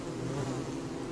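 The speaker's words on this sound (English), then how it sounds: "Yes, there's still bees around." Bees buzzing in the video game Don't Starve, a steady low droning hum that continues without a break.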